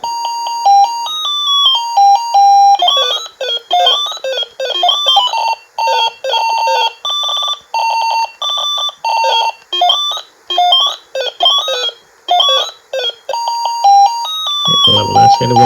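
Ms. Pac-Man handheld electronic game from Microgames of America, 1982, playing loud, bright electronic beeps and tone melodies in quick repeating bursts with short gaps, ending in a lower buzzing tone.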